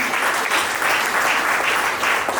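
Guests applaud at a civil wedding ceremony, a dense, lively burst of close clapping that stays strong throughout with no voices over it.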